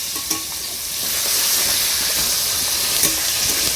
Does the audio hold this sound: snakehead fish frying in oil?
yes